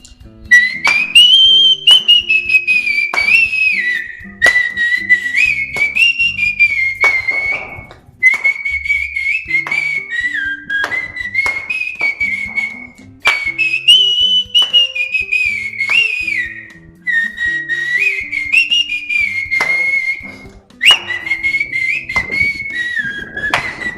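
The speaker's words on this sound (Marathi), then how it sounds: "प्रथम मी तुम्हाला ज्ञानेश्वर माऊलीचं भजन शिट्टीमध्ये कसं असतंय पहा ते सादर करून दाखवतो" A man whistles a Dnyaneshwar Mauli devotional bhajan, loud and near, in a steady continuous melody broken by brief breath pauses.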